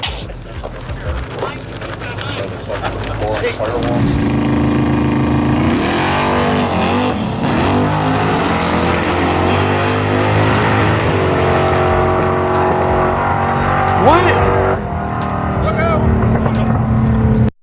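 Cars roaring past at a race track, a continuous loud engine drone with rising and falling pitch sweeps as vehicles go by, with a voice speaking over it.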